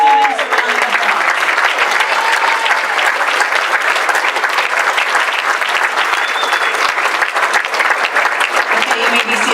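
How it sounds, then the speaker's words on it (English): Dense, sustained applause from a large audience at a school graduation and promotion ceremony, honouring students from after-school clubs; steady loud clapping fills the whole stretch without a break. "Let's give all of these students a round of applause."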